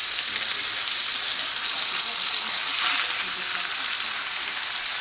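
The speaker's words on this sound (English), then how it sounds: "The skin is cooking and not burning." Skin frying slowly in a pan over low heat, a steady close sizzle with a constant hiss that holds even throughout, with no voices over it.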